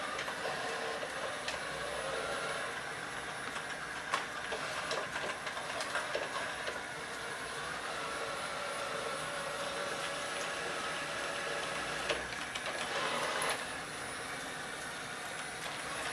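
A Chuwi ILIFE V7S robot mop works the floor in spiral cleaning mode, giving a steady, moderate whirring drone with faint rattles and clicks that runs unbroken throughout.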